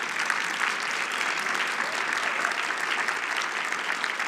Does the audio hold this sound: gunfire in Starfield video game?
no